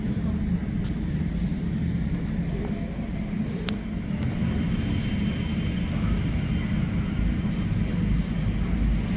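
Airbus A380 airliner at LAX, a steady broadband roar of jet engines rumbling continuously and loudly throughout, with faint background voices.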